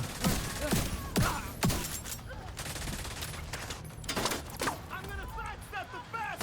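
Rapid gunfire from a Chameleon rifle in a shooter game, with repeated sharp cracks in quick bursts over a constant bed of battle noise and scattered shots.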